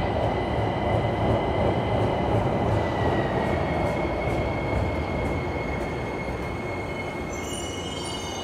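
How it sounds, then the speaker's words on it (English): A Miami Metrorail train rumbles in close and loud, wheels grinding and squealing steadily along the rails as it slows down, with no talking. "Here's our train."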